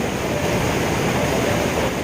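A waterfall in the Muju Gucheondong mountain valley pours down through a narrow rock gap, a dense, steady roar of rushing water that fills the scene without pause.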